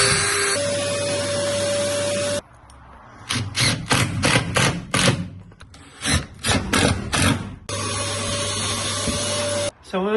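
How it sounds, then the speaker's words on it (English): A cordless drill driver screws an aluminium boat's floor down, giving bursts of loud whirring and ratcheting with short pauses between screws, framed by a steady background hum at the start and end. "Time to screw the floor down, considering it was never screwed down before"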